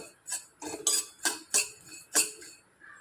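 White sesame seeds roasting in a dry pan, stirred with a metal spoon that gives five or six bright, separate scraping clinks against the pan in an uneven rhythm, close and fairly loud.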